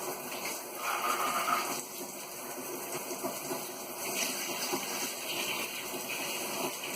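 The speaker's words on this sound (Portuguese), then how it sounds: "Nessa grade aqui você joga água do chuveirinho." A handheld shower sprayer runs hot water over plastic fan parts, a steady hissing spray with a faint hum beneath, continuous and moderately quiet throughout.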